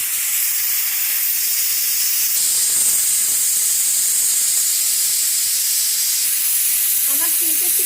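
A pressure cooker whistles, releasing steam while cooking mango khichuri on a gas stove, a loud continuous hiss that shifts pitch partway through, with a faint voice near the end.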